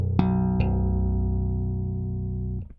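A bass guitar played through a Lusithand Double NFP Special MKII preamp sounds two plucked notes, the second sustaining with a full, clean tone for about two seconds before being muted, heard alone.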